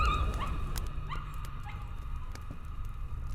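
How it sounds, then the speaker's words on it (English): A dog in a video game gives a few short barks and whimpering yelps over a low rumbling background, close and fairly clear, with no talking. "the dog kind of sounds like my dog"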